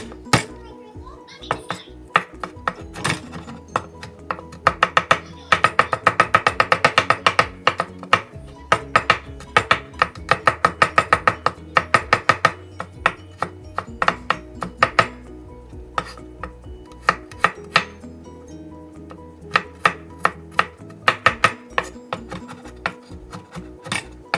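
Knife chopping garlic cloves on a cutting board for a Korean napa cabbage salad, a run of sharp rhythmic taps that comes in bursts, quickening in places, with a voice and kitchen clatter in the background.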